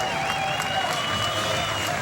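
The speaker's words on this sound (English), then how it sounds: "Sonny KOERNER getting up, getting a round of applause." A rodeo crowd at the 2005 Atlantic Stampede applauds a steer rider, with steady, dense clapping and crowd noise that fill the whole stretch without letting up.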